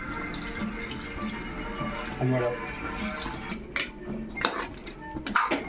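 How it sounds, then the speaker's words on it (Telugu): Water pours and splashes into a pot with a steady trickling sound, followed by brief clinks and stirring noises nearby. "మనం వాటర్ యాడ్ చేసుకోవాలి."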